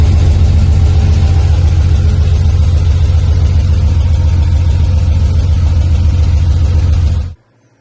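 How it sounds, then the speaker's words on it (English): A 1945 M-5H-6 engine runs loud and close with a steady, deep rumble for about seven seconds, then cuts off abruptly into silence. "gonna ratchet strap this thing down before I fire this thing up and roll it down to the shop"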